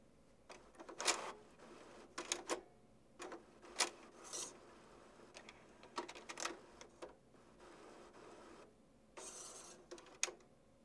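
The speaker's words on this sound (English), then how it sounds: "You will hear the printer perform some basic initialization that shouldn't last too long." Mechanical whirring and scraping bursts from a nearby HP Deskjet 1000 inkjet printer initializing after power on, with irregular short motor runs and clicks separated by brief pauses, no talking.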